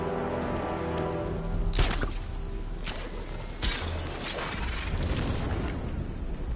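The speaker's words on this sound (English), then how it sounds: "What's with all the rain?" Rain falls in the video game Batman: Arkham Knight, a steady hissing downpour on hard surfaces with occasional sharper splashes and mechanical bursts, loud and continuous throughout, with no one speaking.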